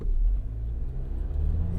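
A 2024 Jeep Wrangler Rubicon X two-door, driven hard through turns, sends a steady, close low engine rumble and road drone through the cabin, with no voices.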